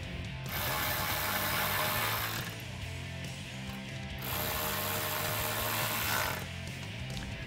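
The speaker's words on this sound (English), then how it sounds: "we can take our 7 millimeter socket to tighten those down" A 7 mm socket ratchet tightening heat shield screws on a 2016-2023 Camaro SS, close and fairly quiet, giving two long runs of rapid clicking with a short pause between them.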